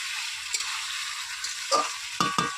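Chicken and potatoes sautéing in a pan give off a constant bright sizzle, with a few soft spatula scrapes and stirs near the end, close by and with no voices.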